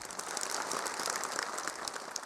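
Studio audience applause for a Jakarta talk show segment, a steady dense patter of clapping filling the whole stretch at moderate level with no voices.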